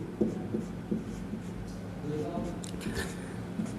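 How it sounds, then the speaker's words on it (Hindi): Chalk or marker writing a word on a classroom board, short scratchy strokes in an irregular rhythm, close and moderately loud, alongside a teacher's Hindi speech. "उदाहरण में हम लिखेंगे दशानन,"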